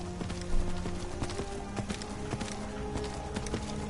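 Steady clip-clopping of the bony undead horse Arvak's hooves in Skyrim Special Edition, a continuous close trot of evenly spaced footfalls under a layer of ambient game sound.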